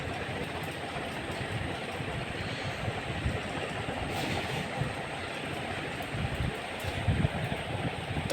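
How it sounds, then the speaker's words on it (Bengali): A train pulls into a railway station, its steady rumble and rolling wheel clatter building gradually and growing louder toward the end, with no one talking. "এই যে কিন্তু ট্রেন এসে পড়েছে দেখেন"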